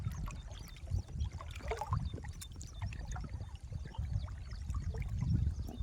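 Floodwater rushes through a swollen village river stream, a faint, continuous wash of water with small gurgles and splashes, heard alone without voices.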